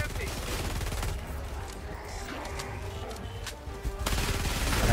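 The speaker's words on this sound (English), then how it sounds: "I love the machine pistol." A machine pistol in Helldivers 2 rattles off fast automatic bursts amid battle noise, briefly dropping off before a loud renewed stream of fire near the end.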